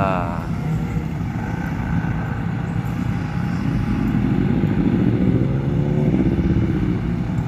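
A motorcycle engine runs with a steady throbbing rumble while the bike is moved on a rural trail, continuous and fairly close, with voices talking over it.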